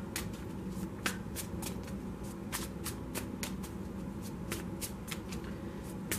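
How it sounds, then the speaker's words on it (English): Tarot cards are shuffled and drawn by hand in a quiet room, producing a steady run of crisp riffling snaps and flicks that carry on throughout. "I'm just going to get a couple of more cards here."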